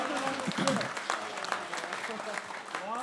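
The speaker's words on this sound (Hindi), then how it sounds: "कविता समाप्त हो गई, तालियां बजा दीजिए" Audience clapping at a Hindi kavi sammelan poetry gathering in Shimla after a poem ends, fairly faint and scattered, with voices talking over it throughout.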